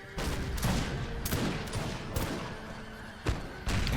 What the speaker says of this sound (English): then we got cannon shots ripping in over here